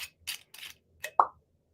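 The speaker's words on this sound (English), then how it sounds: "So listen to this beautiful cork pop." A cork pops from a whiskey bottle in one sharp, close, hollow plop, following a few soft handling rustles in a quiet room.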